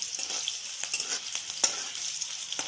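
Green chillies and curry leaves frying in hot oil for makhana chivda, a continuous crackling sizzle with small pops, close and steady.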